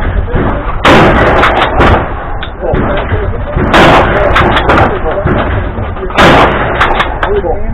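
Three sharp, loud shotgun blasts ring out a few seconds apart, each with a booming echo tail, while people talk between the shots.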